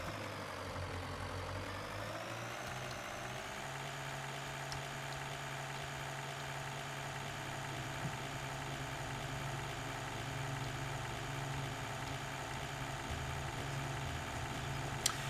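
A tractor engine in Farming Simulator 2013 idles steadily throughout, a low continuous rumbling drone with a constant hum, close and unchanging, with no talk.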